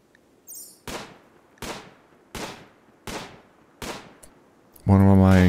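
Five sharp gunshots fire at a steady rhythm in the video game RimWorld, each with a short decaying tail, followed by a loud, sustained buzzing tone at the end.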